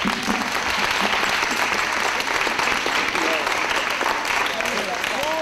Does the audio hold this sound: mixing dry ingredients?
no